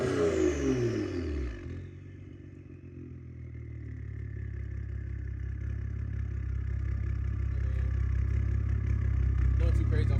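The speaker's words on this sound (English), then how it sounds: "Since this thing is pretty warmed up, we're gonna give y'all a couple of revs." A warmed-up BMW F10 535i engine drops from a rev into a steady, rumbling idle that builds slightly over several seconds, heard up close.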